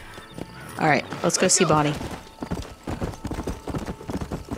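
Horse hooves galloping in the Red Dead Redemption video game, a fast, rhythmic clip-clop running steadily underneath while a person talks over the start.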